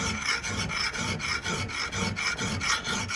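A Michigan axe has its high spots burnished with steady back-and-forth rasping strokes, about a dozen rhythmic passes, close and clear with no talking.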